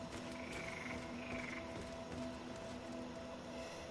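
Frog croaking in the Greedfall video game, a steady layered croak with tonal calls over a continuous ambient bed, moderately loud and without any talking.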